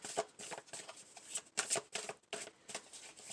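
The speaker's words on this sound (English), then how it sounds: "Alright, we're going to shuffle these." Tarot cards shuffled by hand in a series of quick papery riffles and soft slaps, close and crisp, coming in uneven bursts with short pauses between them.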